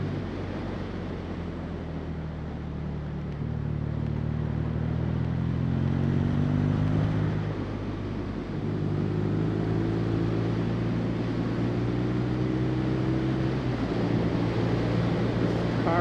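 A 2016 BMW R nineT motorcycle drones steadily while being ridden, its engine pitch rising and dropping through gear changes amid constant wind rush.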